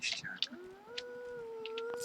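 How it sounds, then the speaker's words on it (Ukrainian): A dog howls in the video game Fallout 4, a long rising and sustained wail that carries through most of the moment after a few brief sharp sounds. "Собака, походу, когось почуяла."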